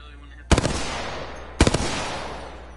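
Gunfire aimed at a cargo bot in the Apex Legends video game on PS4: two sharp, loud bursts about a second apart, each a quick cluster of rapid shots trailing off into a fading echo.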